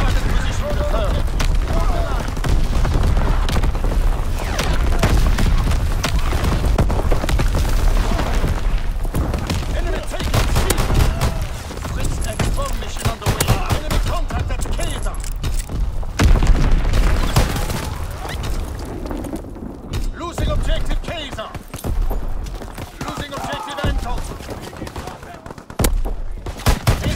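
An artillery battery firing for effect in Call of Duty WWII, with heavy booms, gunfire and machine-gun bursts crashing continuously, loud and chaotic, and in-game voices occasionally calling out over the barrage.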